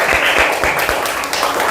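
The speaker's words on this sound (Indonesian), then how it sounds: "Kasih tepuk tangan untuk kita semua." A brief burst of group clapping comes from students at a classroom session, thick and continuous across the short span with a few heavier claps near the start.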